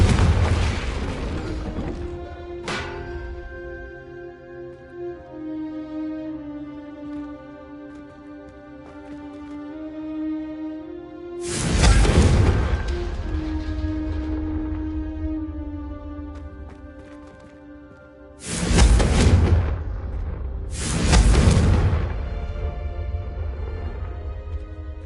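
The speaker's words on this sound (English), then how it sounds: "a Confringo cast travels a bit farther than that of a spell like Incendio" Confringo spell blasts in Hogwarts Legacy go off as several booming explosions, one early and then a pair close together later. Sustained musical tones ring between the blasts, and the explosions stand out loud against them.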